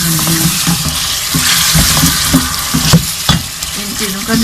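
Garlic and ginger frying in a pan for Kashmiri chicken, a steady loud sizzle broken by repeated scraping stirs, with no talking.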